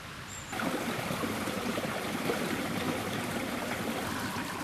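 The Villahermosa river flows near Argelita, a steady rushing stream of water that starts abruptly after a brief quieter moment and continues evenly throughout.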